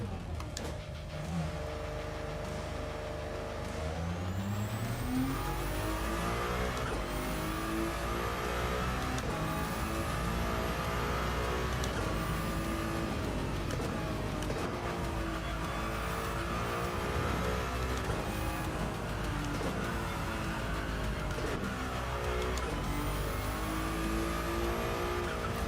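A Ford Mustang races in Gran Turismo 7, its engine note rising and falling through repeated revving and gear shifts for the whole stretch, loud and close, with no talking over it.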